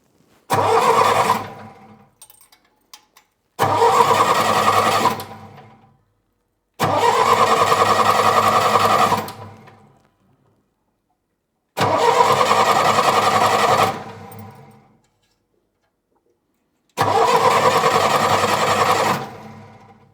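Small diesel engine with glow plugs, cranked repeatedly in five separate bursts of a few seconds each, the starter churning loudly with silent gaps between attempts.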